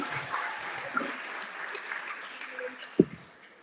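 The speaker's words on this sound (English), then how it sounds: "Everybody give a round of applause for Alicia." Audience applause at a high school graduation ceremony, a broad steady patter of many hands filling the hall for a few seconds, with one sharp knock near the end.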